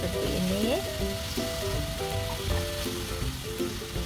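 Apple pieces with sugar and cinnamon sizzle steadily in a pan, with intermittent scraping strokes of a utensil stirring them close by.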